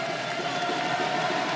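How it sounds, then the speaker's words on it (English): Crowd in a table tennis hall at a women's Champions League final, Metz TT versus TTC Berlin Eastside, a steady, dense roar of cheering voices throughout with no individual words standing out. "The crowd is unstoppable here in the hall, standing behind their player."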